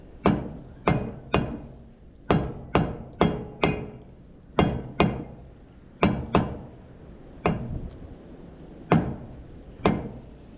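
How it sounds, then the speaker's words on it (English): A dust cap being hammered back onto a freshly greased wheel bearing hub, with about sixteen sharp metallic blows in uneven pairs and groups, each ringing briefly, close and loud, with no talk. "We're just trying to put the dust cap back on."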